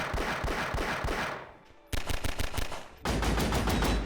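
Pistol fire from the video games Half-Life and Deep Rock rings out as a quick string of sharp, close, evenly spaced shots in three loud bursts, with short pauses between them.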